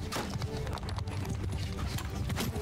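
Horses galloping in the video game Mount & Blade II: Bannerlord, a dense continuous drumming of hooves under a busy battle mix of steady mid-level noise.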